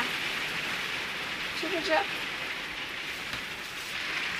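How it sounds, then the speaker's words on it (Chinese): Heavy rain drums steadily on a vehicle stuck in a traffic jam on the Qinghai-Tibet road during a windy storm, a dense even hiss with a brief voice speaking inside. "外面下大雨"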